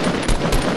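Rapid gunfire in Fortnite Battle Royale aimed at a staircase from below, a dense, loud burst of shots with a couple of heavier surges, close and continuous with no voices over it.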